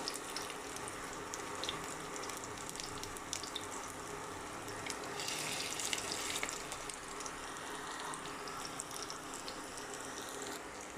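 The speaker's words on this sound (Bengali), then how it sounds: "এই যে দেখুন, আমার ভাজা হয়ে আসতেছে।" Soybean chops fry in hot oil in a pan, a faint, steady bubbling crackle with scattered small pops, continuous and close, with no voices.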